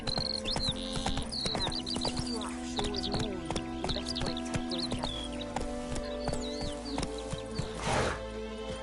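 Roach the horse trots in The Witcher 3, hooves clip-clopping in a steady close rhythm with an occasional snort, while voices talk over it and birds chirp in the background.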